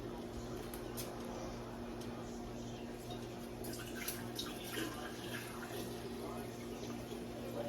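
Steady running liquid poured through a funnel into jars, a soft wash with faint splashy ticks, constant and fairly quiet throughout.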